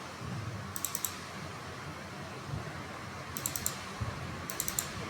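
Bursts of quick, light key clicks on a computer keyboard, a few short clusters of typing over a soft steady fan-like hiss in a quiet room.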